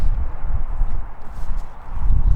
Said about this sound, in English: I've stumbled across this rather lovely horse